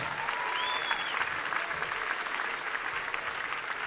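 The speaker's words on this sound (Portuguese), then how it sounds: "Que as palmas louvem ao Senhor Deus." A church congregation at a missions symposium applauds in praise, a continuous full crowd clapping that stays steady and loud throughout, with faint voices mixed in.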